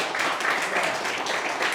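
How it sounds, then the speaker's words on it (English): An audience applauds after an award is presented, a dense wash of clapping that stays steady from start to finish with no voices on top. "Everybody just want to give him a round of applause."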